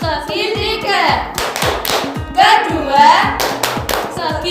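Rhythmic clapping in a classroom clapping game about flat shapes, a regular pattern of sharp hand claps and taps alongside a voice chanting, with claps repeating in steady groups.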